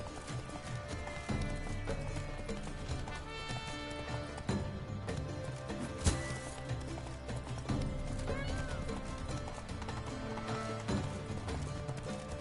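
Roach the horse galloping in The Witcher 3 during a knights' tournament in Toussaint, steady hoof clip-clop under game music and a low voice, with a sharp burst midway.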